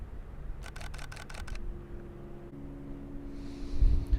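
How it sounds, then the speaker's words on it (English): A camera shutter fires in a rapid burst of about eight crisp clicks, close to the mic, against faint outdoor wind in a desert dune landscape. "push the shutter at the right time"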